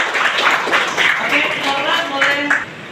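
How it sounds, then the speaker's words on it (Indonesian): A classroom of pupils claps in quick, rhythmic bursts to welcome the day's class captain. A teacher's voice runs over the clapping, which stays fairly close and loud for a few seconds. "Tepuk tangan lagi."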